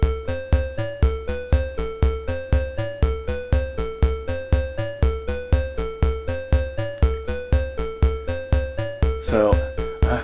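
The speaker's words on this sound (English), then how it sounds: "when I hit go on the beat step controller, you will hear a sequence playing" A modular synthesizer plays a steady, repeating note sequence clocked from a BeatStep controller: evenly spaced plucky synth notes with a shifting pitch pattern, loud and close, with no talking.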